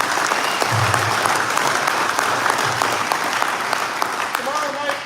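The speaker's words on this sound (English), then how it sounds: "So can we have a big round of applause for them?" Audience applause for sponsors who support veterans at a tournament rules meeting, a steady wash of many hands clapping close by, with a few brief voices rising through it near the end.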